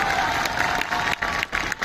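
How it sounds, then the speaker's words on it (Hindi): An audience applauds in a brief, loud burst of clapping with faint crowd noise, steady and close, with no one speaking over it. "तालियां"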